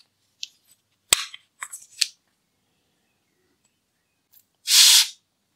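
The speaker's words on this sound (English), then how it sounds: "It sprays really well." A kids sunscreen spray bottle lets out one loud, close hiss of spray near the end, after a few quiet clicks and handling sounds with no talk.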